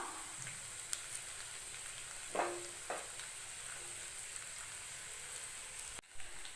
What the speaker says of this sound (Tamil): நல்லா வதக்கி விட்டுக்கிட்டே இருங்க அப்போ தான் உருளைக்கிழங்கு நல்லா ஃப்ரை ஆகும்